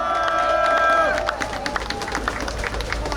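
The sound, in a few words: audience applause at a political rally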